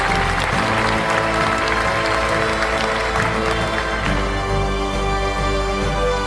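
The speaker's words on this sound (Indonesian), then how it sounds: "Beri tepukan yang meriah buat kedua." A hall audience at an evening reception hosted by the Nunukan regency government claps steadily throughout, the applause layered over continuous background music.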